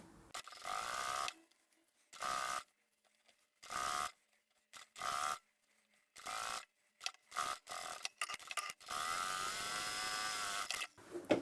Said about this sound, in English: I'm just going to sew straight down both long edges.